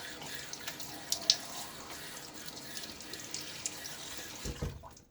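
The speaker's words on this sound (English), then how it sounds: "now let's get my face wet" Tap water runs steadily into a bathroom sink as a face is wetted before a shave, with a few louder splashes and drips, then the flow stops near the end.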